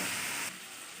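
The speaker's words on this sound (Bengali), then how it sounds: "এ দেখুন আলুগুলি ভাজা হয়ে যাচ্ছে" Potatoes frying in a pan over a medium gas flame give a steady, close broadband sizzle, louder for the first half and then settling a little quieter, with no talk.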